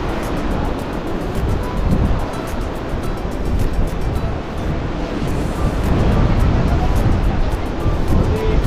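Sea waves wash onto an empty Digha beach, a steady rushing surf with wind buffeting the microphone throughout, no distinct voices standing out.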